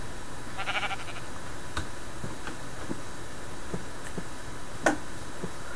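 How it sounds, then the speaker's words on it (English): A single sheep bleats in Minecraft Java Edition, a short mid-pitched wavering cry near the start, followed by scattered soft ticks and clicks over a steady low background with no talking. "I'm looking for the green sheep"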